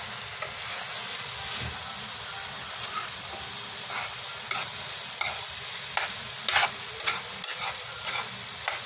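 Ground pork and potatoes are stirred in a frying pan for tortang talong, giving a steady sizzling hiss with repeated scraping and clicking strokes of the utensil, close and fairly loud throughout.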